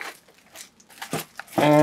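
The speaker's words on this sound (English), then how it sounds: "let me unwrap this." Plastic shrink wrap tears and crinkles off a hardcover comic book collection, with a few light crackles building to a louder, sustained crinkle at the end; no one speaks.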